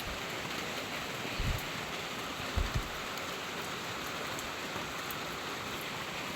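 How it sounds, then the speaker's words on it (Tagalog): Steady, dense rainfall hissing down without a break, with a couple of brief low thumps partway through; no voices. "Ang lakas po ng ulan."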